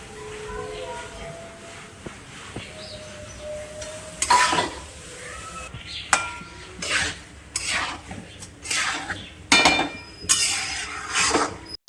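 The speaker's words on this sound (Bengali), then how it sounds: "ভালো করে সব মশলার সাথে ভালো করে মিশিয়ে নিয়েছি চাল ডাল" Spoon or ladle stirring washed rice and lentils with spices in a pot for khichuri, scraping and clinking in irregular bursts, moderately close, with a voice talking quietly underneath.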